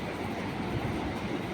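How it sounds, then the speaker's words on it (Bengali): A train rolling slowly toward Payradanga railway station in India makes a steady, loud rumbling roar with no distinct pauses. "আস্তে আস্তে পায়রাডাঙ্গা স্টেশনে দিকে এগিয়ে যাচ্ছে"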